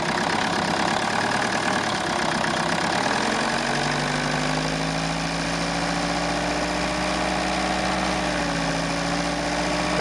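Toyota Corolla diesel engine, which has battery-charging and diesel filter warning lights on, revved to about 2,000 rpm: a steady, loud mechanical drone whose pitch climbs and then holds with a slight waver, close up and with no voices.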